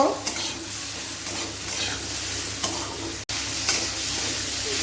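Potatoes, squash and soybean chunks stir-fry in a pan for a vegetable curry, giving a continuous close sizzle with scraping stirs and a brief dropout near the end, no voices.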